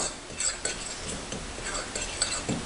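Flour, salt and baking powder are stirred together in a bowl for bannock base, producing light scraping and tapping of a utensil in a quick, irregular rhythm, close and moderately quiet.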